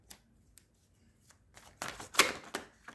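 Tarot cards riffle and slap softly in a quiet room during a reading, faint scattered flicks giving way to a brief louder flurry of shuffling and drawing near the end.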